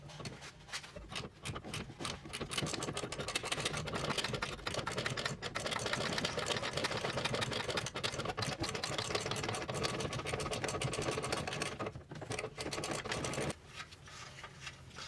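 A loud, steady rattling buzz from a power tool, likely an impact wrench, loosening a ball joint bolt on a 2013-2019 Nissan Sentra. It runs almost continuously with rapid hammering pulses, then cuts out briefly near the end.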